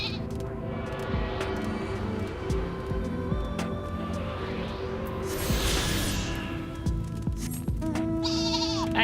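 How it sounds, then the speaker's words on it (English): Sheep bleat in the Final Fantasy XIV game world, several calls rising over a busy layer of game music and ambient effects, with a sharp swoosh near the end. "I like the tippy tappies of the sheep."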